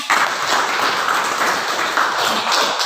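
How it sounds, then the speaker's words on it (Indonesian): Students in a middle school classroom applaud a classmate, giving dense, fairly loud clapping that continues evenly for about three seconds with no talk over it. "Ya, berikan tepuk tangan."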